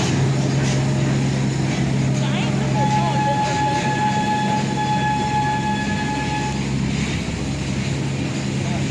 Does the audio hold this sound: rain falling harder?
no